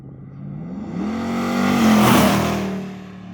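A 1971 Chevy C10 restomod with an LT1 engine accelerates hard, its exhaust note climbing in pitch as the revs build to a loud peak and then easing off, heard close.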